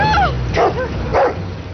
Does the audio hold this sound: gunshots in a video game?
no